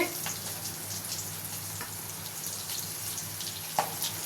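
Masala-coated fish frying in hot oil, a steady, fairly quiet sizzle and crackle with a few sharper pops and spatters near the end.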